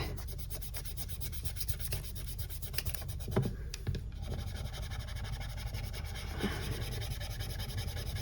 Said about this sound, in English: I'm just using the back of my nail to rub that down